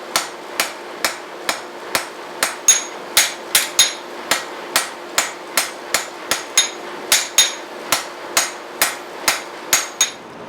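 A hammer strikes a steel blade during forging, about two dozen sharp ringing blows in a steady, brisk rhythm, loud and close with nothing else over them.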